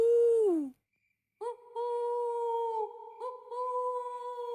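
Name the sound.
cartoon characters imitating owl hoots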